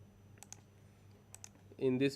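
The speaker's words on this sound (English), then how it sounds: "keep on clicking till you finish digitization of one road" Computer mouse clicks while a road is digitized in GIS software, a few faint scattered clicks in a quiet room before a voice starts talking near the end.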